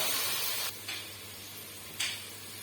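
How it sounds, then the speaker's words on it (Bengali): Shrimp frying with onions in a pan, a steady broadband hiss with two brief louder sizzling bursts, close and moderately quiet, no voices. "পেঁয়াজের সাথে একেবারে চিংড়ি মাছ ভাজি করে নিচ্ছি"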